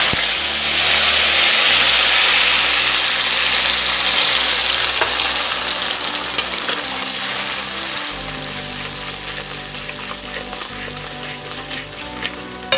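Tomato paste sizzling loudly in hot oil with cinnamon sticks for a chicken dish, a dense bright frying hiss up close that eases slightly over time, with a low steady hum underneath and no talking.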